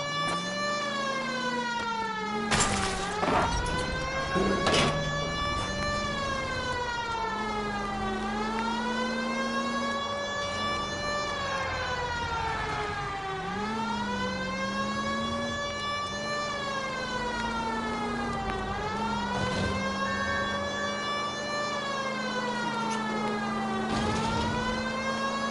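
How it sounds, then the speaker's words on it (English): A police car siren wails in the video game L.A. Noire, loud and continuous, rising and falling in long sweeping cycles over engine rumble and a few brief knocks. "I think we need a siren."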